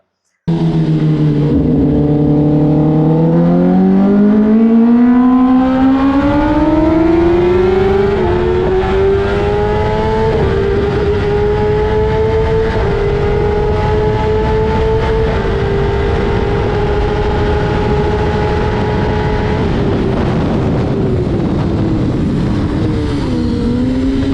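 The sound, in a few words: Kawasaki ZX-10R motorcycle at top speed over 300 km/h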